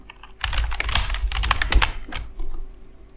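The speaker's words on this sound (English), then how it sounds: "I'm going to write some password that is not going to show you." Password being typed on a computer keyboard: a close, rapid run of key clicks in uneven bursts with a short pause midway, no talking.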